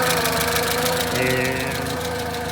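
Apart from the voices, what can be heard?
1948 Crosley CoBra engine running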